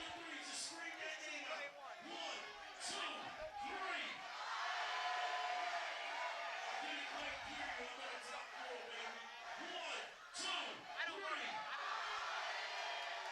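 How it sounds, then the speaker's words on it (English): Crowd noise at a fight event, a continuous roar of many voices with shouts and whoops rising and falling, fairly distant and steady throughout, with voices talking over it. "You hear the crowd right now"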